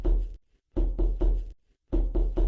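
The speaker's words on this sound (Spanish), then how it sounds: "se escucharon golpes desesperados en la puerta en casa de doña Florinda" Three rapid bursts of heavy knocking land on a wooden door, each burst made of quick, loud, urgent blows, with short silent gaps between the bursts.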